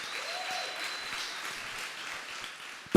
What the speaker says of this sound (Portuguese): Aplaude de verdade.